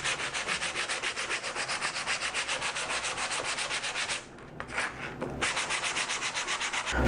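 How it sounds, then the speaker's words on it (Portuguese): A sanding block rubs back and forth across wooden marquetry, rapid rhythmic rasping strokes, close and steady, with one short pause before the scrubbing resumes. "E aí eu já começo a dar a primeira lixada para ir em direção ao acabamento final."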